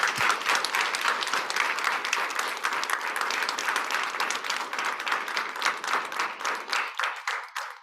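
An audience applauds steadily for several seconds, a dense wash of clapping that thins and fades toward the end.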